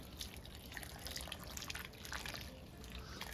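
Water poured over the soil of a newly planted mango tree in a container, a steady soft splashing and trickling with scattered drips, fairly close and continuous throughout.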